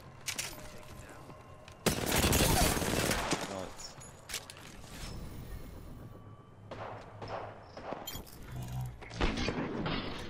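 Heavy Kraber sniper rifle shots in Apex Legends come as a loud burst followed by several sharper cracks and impacts scattered through the clip, mixed with game noise and excited talk.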